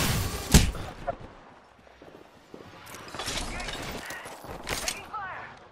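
Gunfire in the Apex Legends battle royale game, a few sharp bursts and rapid mechanical clatter spread through a busy mix, with a voice talking over parts of it.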